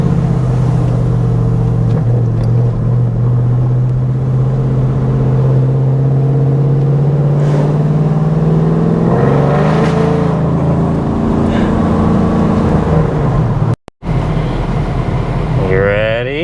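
A 2011 Chevrolet Camaro SS engine drones steadily while driving, a loud, low rumble that rises in pitch as the car accelerates, with people talking inside the car over it.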